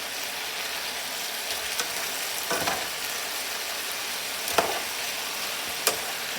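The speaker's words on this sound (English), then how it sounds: "it's time to stir the things around." Pork chops and potatoes fry together in one pan with a continuous loud, close sizzle and crackle. A few brief scraping stirs of a utensil cut through the hiss.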